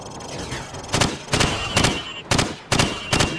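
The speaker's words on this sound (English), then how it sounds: "Now, shoot at the targets while firing from the hip." Hip-fired gunshots at a firing range in Call of Duty 4: Modern Warfare (2007), six sharp, loud reports in a fairly even rhythm, each with a short echoing tail.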